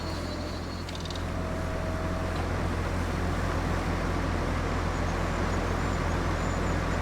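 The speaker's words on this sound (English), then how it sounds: "The sound of this engine." A logging vehicle's engine idles in a forestry game, a steady, loud, low diesel rumble that drones evenly throughout with no one speaking.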